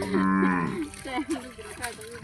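A cow in a village setting gives a loud, close, drawn-out moo that rises and then trails off into a couple of shorter, lower grunting calls.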